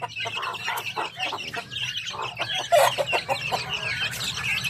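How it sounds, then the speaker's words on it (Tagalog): Native chickens cluck repeatedly in a busy backyard farm, several birds overlapping at moderate distance with a steady background hum. "Ang mga native na manok."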